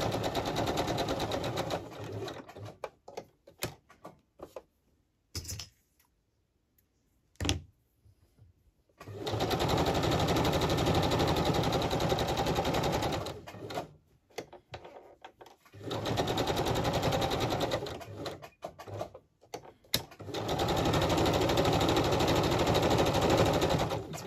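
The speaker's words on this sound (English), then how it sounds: "So if you don't like the sewing machine, you can fast forward or turn the volume down." A sewing machine stitches very frayey fabric in long rapid rattling runs, stopping and starting several times with brief quiet gaps and clicks between.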